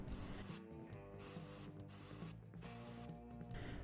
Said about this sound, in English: I applied a layer of gloss varnish to protect it